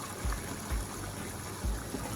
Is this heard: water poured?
yes